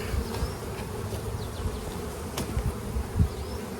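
Honey bees buzz in a dense, continuous drone around an opened hive during a hands-on beekeeping class, with a few louder individual bees passing close by and no voices.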